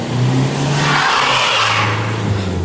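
A front-wheel-drive Jaguar X-Type revs hard while trying to climb an icy slope, its engine droning loud and close, pitch rising and falling over a hissing wash of noise, with no talk.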